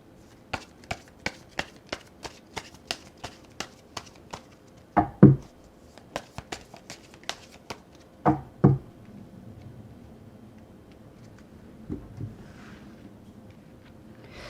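Tarot cards being handled on a table: a run of crisp, evenly spaced taps, then a few heavier riffles and slaps with quieter rustling between them, close and dry, with no voices.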